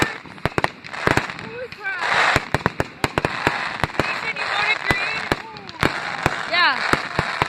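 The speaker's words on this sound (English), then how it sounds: "we're going to be doing a fireworks vlog" Fireworks display in Bath, sharp repeated bangs and pops at irregular intervals with whistling rockets rising between them, loud and close, over a busy background of crowd noise and voices.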